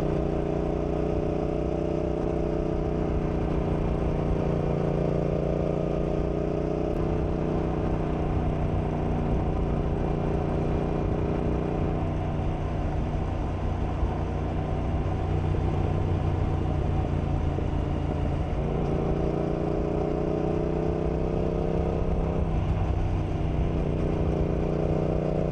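Yamaha XSR700 motorcycle cruising through forest roads in the Sauerland, its steady engine drone constant and close throughout, with gentle rises and dips in pitch as the rider shifts and changes throttle.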